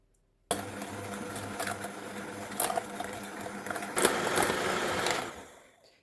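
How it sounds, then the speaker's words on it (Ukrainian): Electric mixer beating brownie batter with sugar, a steady close motor whir with a few louder surges, switching off and fading at the end. "це все треба нам збити міксером"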